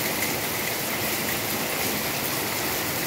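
Steady, dense rain falls close by with an even, unbroken hiss, like a downpour on nearby surfaces, and no voices are heard.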